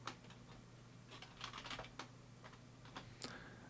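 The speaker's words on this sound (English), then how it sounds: "I'm going to type SSH root at rhel1" Rapid typing on a computer keyboard, a faint, close run of light key clicks with uneven rhythm over a low background hum.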